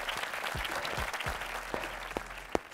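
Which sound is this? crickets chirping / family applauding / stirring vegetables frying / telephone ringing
family applauding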